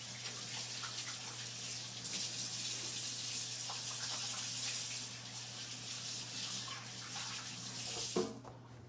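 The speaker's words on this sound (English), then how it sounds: "So let me just wash my hands real quick." A tap runs steadily into a sink while hands are washed, a soft continuous hiss of flowing water with a steady low hum beneath, ending in a brief clatter.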